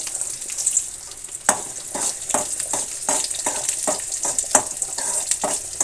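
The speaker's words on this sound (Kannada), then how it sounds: "2 ಸ್ಪೂನ್ ಆಯಿಲ್ ಜೊತೆಗೆ ಸ್ವಲ್ಪ ಸಾಸಿವೆ, ಸ್ವಲ್ಪ ಕರಿಬೇವಿನ ಸೊಪ್ಪು ಮತ್ತು ಸ್ವಲ್ಪ ಈರುಳ್ಳಿನ ಸೇರಿಸ್ತಾ ಇದ್ದೀನಿ. ಇಷ್ಟು ಫ್ರೈ ಆಗಲಿ." Mustard seeds, curry leaves and onion frying in two spoons of oil for a drumstick sambar tempering, a continuous high sizzle broken by repeated sharp crackles and stirring clinks close up.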